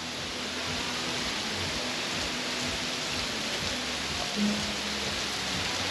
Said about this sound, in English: it's raining like a cow pissing on a flat rock out here